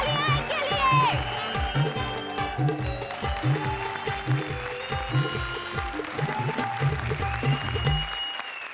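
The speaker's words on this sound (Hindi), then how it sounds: "जोरदार तालियां इनके लिए।" A studio audience on a Hindi TV comedy show applauds a departing pair of performers while rhythmic music with a thumping beat and melodic lines plays loudly over the clapping.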